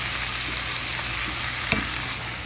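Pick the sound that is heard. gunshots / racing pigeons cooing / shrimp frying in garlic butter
shrimp frying in garlic butter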